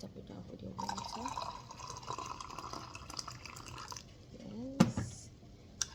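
Water poured from a kettle into a mug of coffee with rum cream, a rising fill tone running for a few seconds under quiet talk, ending with a short clink.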